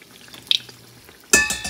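Pithe, rice cakes, drop into hot oil with a sudden loud sizzle and crackle near the end, after a quiet stretch with a faint clink.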